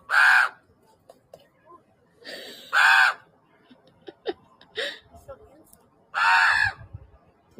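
A large bird caws loudly three times at spaced intervals, harsh and close, with faint clicks and rustles in between.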